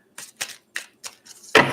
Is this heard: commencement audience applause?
no